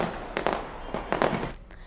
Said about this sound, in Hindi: यहां भी शानदार आतिशबाजी के साथ नए साल 2024 का वेलकम किया गया है